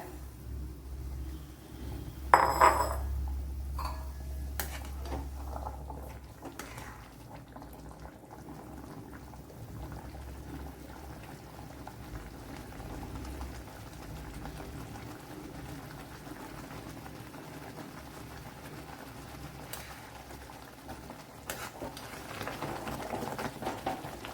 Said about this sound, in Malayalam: ഇവിടെ വെള്ളം തിളച്ചിട്ടുണ്ട്